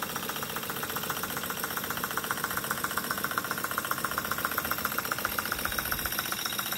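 A small model electric motor and generator, a cheap model windmill unit built for steam engines, runs steadily with a continuous whirring hum and fine buzzing rattle, close and unbroken throughout.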